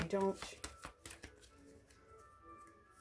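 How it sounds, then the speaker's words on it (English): Rapid papery riffling and soft card flicks as a tarot deck is shuffled up close, with a brief hum of voice at the start and quieter shuffling after. "let's just shuffle these cards"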